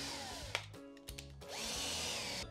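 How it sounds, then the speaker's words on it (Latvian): An electric screwdriver switched to its fast mode drives a screw, a whirring motor that revs up and stops in short runs, then spins steadily near the end. "arī skrūvēt ātrajā režīmā, pārslēdzot šo te slēdzi elektriskajam skrūvgriezim."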